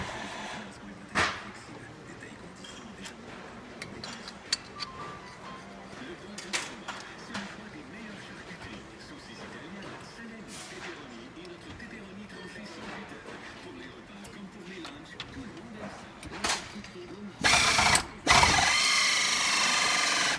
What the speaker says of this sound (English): John's going to assemble the shock for us.